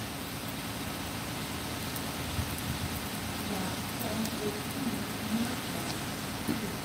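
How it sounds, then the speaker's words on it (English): Steady rain falls as a constant hiss, with faint muffled voices underneath and occasional small taps and drips. "So far it's been raining here"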